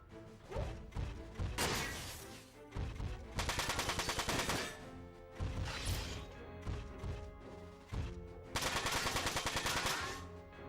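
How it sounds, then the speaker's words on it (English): Machine gun fire in the mech combat game Front Mission 4, loud repeated bursts of rapid automatic shots with short pauses, heavy impacts and crashes mixed in, no talking. "switch to our machine gun for this"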